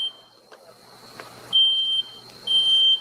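A smoke alarm emits piercing high beeps, two long loud tones after fainter chirps, standing out over a quiet background.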